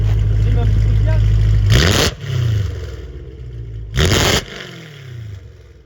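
A supercharged BMW M3 E92 with an Armytrix exhaust, valves open, blips its throttle twice in sharp loud bursts over a low rumbling idle, with voices nearby.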